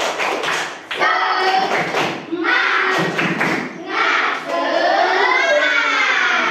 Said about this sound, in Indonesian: coba semua tepuk semangat